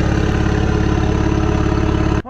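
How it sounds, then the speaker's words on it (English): A Ford 7.3 Powerstroke diesel runs after a cold start in snow, a loud close idle with a fast, even, rattling diesel clatter that cuts off abruptly near the end. "Oh, yeah, it's burning that diesel."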